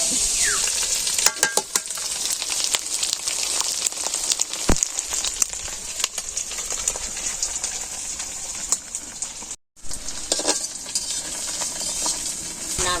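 Potatoes frying and sizzling in hot oil over a village cooking fire, a steady loud crackle with stirring scrapes throughout and one brief dropout near the end.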